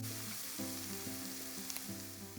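Mushrooms sizzle steadily in a pan with turmeric and salt while being stirred, a constant close frying hiss with a soft tonal background running underneath.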